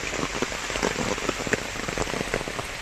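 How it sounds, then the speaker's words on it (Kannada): Rain falls on a trail near a waterfall, a dense, steady patter of close drops with scattered sharper splashes and no voices. "ಮಳೆ ಬಂತು"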